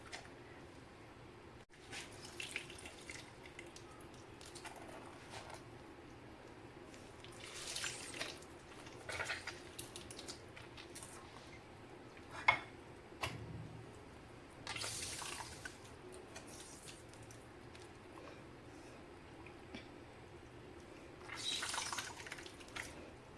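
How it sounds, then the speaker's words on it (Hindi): Lemon juice squeezed by hand through a strainer into a bowl, with soft intermittent dripping and wet squishing bursts over a quiet background and no talk. "अब एक बर्तन में हमने छलनी बिछा दी है और इनका जो सारा रस है वो हम इसमें निकाल देंगे"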